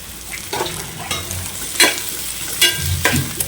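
Curry leaves dropped into onions frying in a pan for chicken pulimunchi, giving a close sizzle with sharp bursts of crackling and spatula stirring scrapes, no speech.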